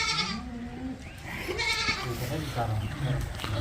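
Goats bleating on a goat farm in Chakwal during morning chores, a few calls mixed with farm noise and people talking nearby throughout.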